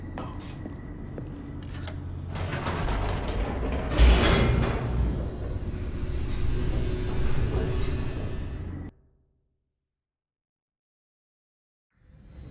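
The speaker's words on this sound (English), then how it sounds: "The elevator raced downward," An elevator in The Stanley Parable descends with a rumbling, creaking mechanical drone that swells around the middle, holds steady, then cuts off abruptly into silence before a faint sound returns at the end.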